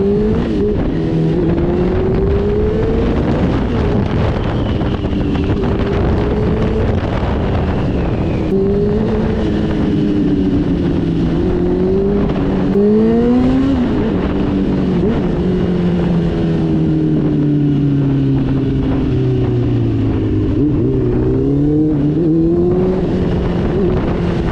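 A Honda CBR650R four-cylinder sport motorcycle with a Haro exhaust line rides past loud and close, its engine note climbing and dropping through gear changes over a long continuous run with wind rush.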